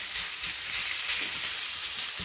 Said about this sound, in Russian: А на сковороде первым делом мы обжариваем на растительном масле